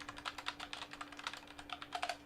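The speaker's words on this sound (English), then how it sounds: "Mechanical keyboard time." Rapid, uneven clatter of keys on a mechanical keyboard, close and clear, with keystrokes bunching into quick bursts and brief pauses during a livestream.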